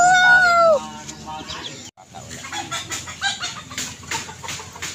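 A rooster gives a loud crow up close, then softer clucks and backyard farmyard noise continue while people talk nearby in Filipino.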